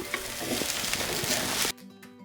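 Raw mango poha with chopped coriander is stirred in a pan, a short burst of sizzling and scraping that cuts off abruptly, followed by a quieter steady tonal sound.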